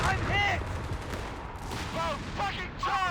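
Rapid gunfire crackles in a Company of Heroes 3 battle, bursts of shots and distant blasts layered over voice callouts and talk, dense and continuous throughout.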